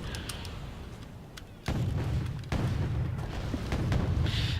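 Tank cannon volleys in the Wargame Airland Battle video game, heavy booming blasts that jump in loudness as new salvos land, over continuous low rumbling battle noise with no talk.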